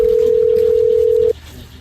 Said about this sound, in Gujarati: લે ફોન લાગે કે નહીં?